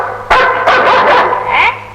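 A pet dog barks loudly and close by in a rapid burst of several barks, with no voices over it.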